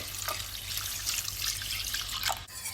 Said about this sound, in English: Stir in half a pint of milk.